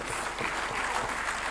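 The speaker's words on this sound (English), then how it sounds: "Can we give him a resounding applause?" A burst of applause fills a parliamentary plenary chamber in the National Assembly, dense and continuous, steady in loudness for its short length with no talk over it.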